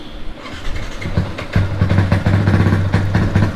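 In a video game, a motorcycle engine starts up and settles into a loud, close, rumbling idle with a steady low throb and small rhythmic revs.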